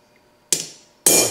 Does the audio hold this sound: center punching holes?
yes